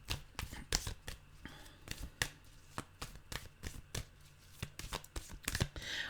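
Tarot cards being shuffled by hand, a close series of quick papery riffles and slaps repeating in uneven bursts, with no voices.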